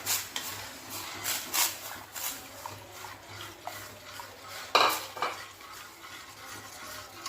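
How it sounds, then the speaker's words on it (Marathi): Whisking jowar flour batter into hot water in a pot, soft rhythmic stirring swishes and light clinks of the whisk against the vessel, close and fairly quiet with no talk. "हे ज्वारीचं पीठ याच्यामध्ये टाकून छान असं फेटत फेटत टाकायचं म्हणजे गुठळी होत नाही"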